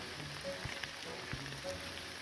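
Rain falling on a campsite along the Appalachian Trail in Virginia's Shenandoah National Park, a soft steady patter with a few scattered nearby drips and taps, no voices.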